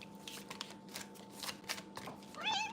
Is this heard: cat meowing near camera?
yes